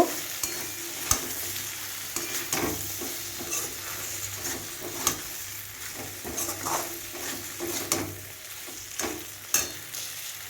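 Okra spiced with turmeric and chilli powder is stirred in a hot pan, sizzling steadily while a spoon scrapes and taps the metal in irregular strokes, close and alone.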